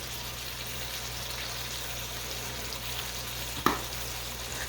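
Chicken pieces frying in a pan for chicken cacciatore, a steady close sizzle with fine crackle running throughout, one brief sharper pop or clack near the end.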